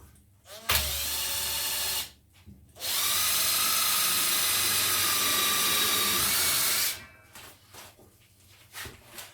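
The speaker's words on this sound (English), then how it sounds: "If we drill it just there," A power drill whirs loudly in two bursts, a short run then a longer sustained spin, with rising pitch as it winds up, followed by quiet handling noises.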